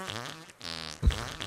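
A cartoonish fart sound effect in the Goose Goose Duck game, heard amid layered background voices and game audio, with a brief louder burst near the end.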